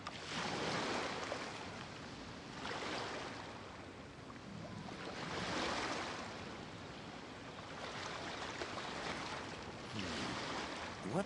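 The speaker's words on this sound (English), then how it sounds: "Waves are as calm as always." Calm ocean waves in the video game Genshin Impact, a steady broadband wash with slow swells rising and falling about every few seconds, soft and continuous with no voices.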